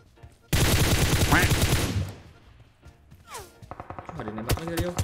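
Gunfire in the mobile game PUBG Mobile erupts as a loud, dense volley lasting a couple of seconds, then fades to quieter game sounds and more sporadic shots mixed with other effects.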